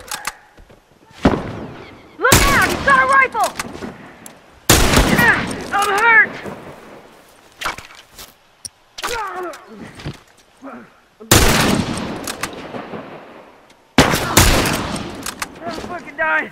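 Rifle gunfire in The Last of Us multiplayer cracks out in loud bursts and single shots separated by quiet gaps, with shouted voices between the volleys.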